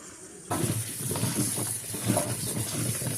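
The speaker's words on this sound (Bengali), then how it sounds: "এবার হাত দিয়ে ডলে ডলে খুব ভালো করে পরিষ্কার করে ধুয়ে নেব যাতে এর মধ্যে কোনো রকমের নোংরা না থাকে" Peeled taro is washed by hand in running water; the tap starts suddenly and flows steadily, with splashing and rubbing close by.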